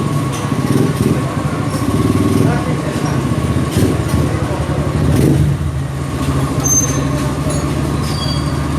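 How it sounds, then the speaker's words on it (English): A small street-legal motocross motorcycle idles steadily nearby, its low engine drone continuous throughout the clip with a slight swell partway through, while background traffic noise mixes in. "Little street legal motocross bike."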